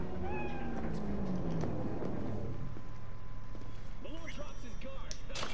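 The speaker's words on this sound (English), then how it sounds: "Oh, I didn't know it was a cat there." A small hairless cat meows in the video game Cyberpunk 2077, short mews rising over a steady bed of city ambience and wind-like noise, with a few brief chirping calls near the end.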